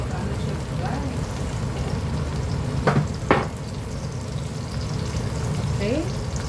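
Rendered chicken fat oil sizzles steadily in a pan, a crackling hiss like light rain, with a couple of sharp clinks from a utensil partway through and faint voices in the background.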